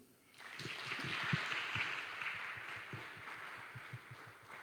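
Applause in a church during an Advent concert service, as a congregation claps for group leaders, a soft, distant wash of many hands that swells quickly and then slowly thins out.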